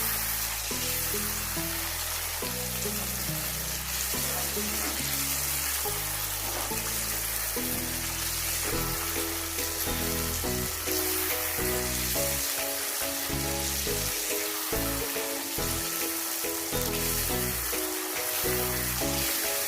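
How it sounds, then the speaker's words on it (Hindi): Mutton karahi with yoghurt sizzles and fries steadily in a pan, a continuous loud crackling hiss throughout with no talking. "इसकी हमने अच्छे तरीके से भुनाई करनी है"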